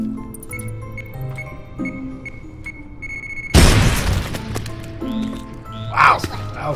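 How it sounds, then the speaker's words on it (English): A big explosion in the video game Worms Revolution booms out suddenly as a loud broadband blast over game music, followed by debris and squishy pops, with a voice talking nearby. "Wow, that was a big explosion."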